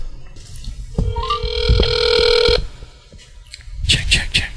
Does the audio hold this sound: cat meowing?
no